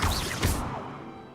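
An Accio summoning spell in Hogwarts Legacy gives a short magical whoosh and crash-like burst that quickly fades away.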